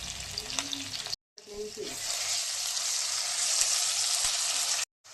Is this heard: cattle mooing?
no